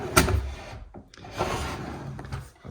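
Wooden triangular corner drawer in a cabinet built from salvaged wood slides open and shut, with a couple of rubbing, scraping wood strokes and soft knocks close by, with no voices.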